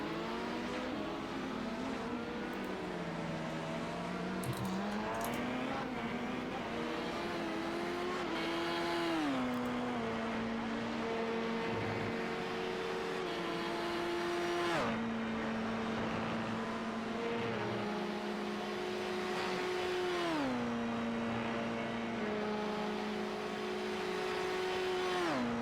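Sports racing cars lapping a Belgian circuit during an international sports car championship race, engines droning loudly and continuously with rising and falling pitch as they shift gears through corners, several cars audible at once.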